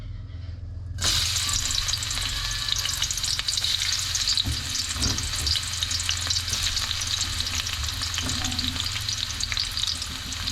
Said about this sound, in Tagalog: Gisa-gisa ng lamas.